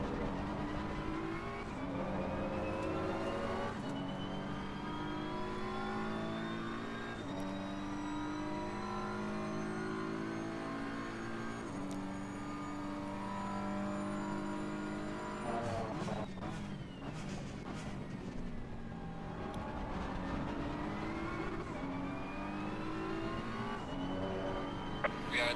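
BMW M4 GT3 race car engine in Assetto Corsa Competizione at Kyalami, revving loud and steady through gear changes with rising and falling pitch, a continuous close engine roar under occasional talk.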